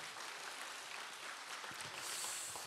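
Congregation applauding during a Friday prayer service at a church in Daegu, a steady wash of clapping that holds evenly through the short stretch and swells slightly near the end, with no voices over it.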